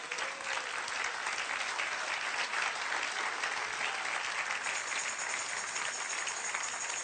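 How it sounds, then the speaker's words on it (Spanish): Church congregation applauding during a sermon, a dense and even wash of many hands clapping that holds steady throughout, with no voices audible. "Dale un aplauso al Señor."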